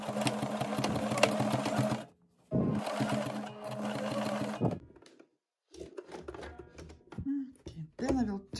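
Sewing machine stitching a patch pocket, two loud bursts of rapid mechanical running separated by a short stop, then quieter handling noises and brief machine starts with a voice speaking between them.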